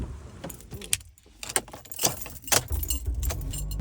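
Keys jingle in short metallic bursts as someone gets into a car, with door and seat handling noises close by and no talking.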